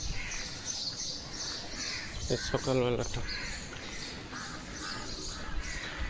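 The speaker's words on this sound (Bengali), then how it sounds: "কত রকম পাখির ডাক" A crow caws loudly in a short burst of several harsh calls amid a background of assorted morning birdsong on a quiet street, while someone speaks briefly over it.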